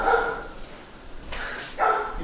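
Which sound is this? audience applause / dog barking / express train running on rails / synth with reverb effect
dog barking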